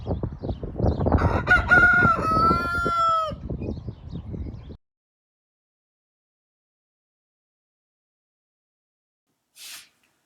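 A rooster crows loudly on a spring farm, a couple of rising, strained calls with clucking around them. Then silence, broken near the end by one brief faint chirp.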